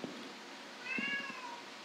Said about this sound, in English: I don't know if you can hear the meowing.